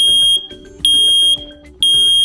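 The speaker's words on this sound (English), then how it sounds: "When an alarm is triggered, you'll hear a loud 85 decibel chirp to alert you." A First Alert SA521CN wireless interconnect hardwired smoke alarm sounds three loud, piercing high-pitched beeps, each about half a second long and evenly spaced, close and alone.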